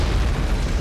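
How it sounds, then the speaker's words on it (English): A simulated IED blast goes off near a Humvee in a therapy simulation, a dense, loud roaring boom that fills the whole short moment with heavy low rumble. "We're putting them in the Humvee and hitting a button and blowing up an IED nearby."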